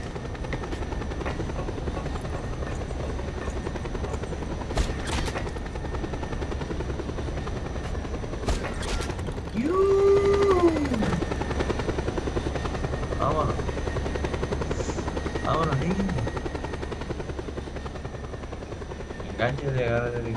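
Helicopter rotor and engine drone in the video game Just Cause 2, continuous throughout, with a few sharp clicks and a brief swelling tone midway while people talk over it.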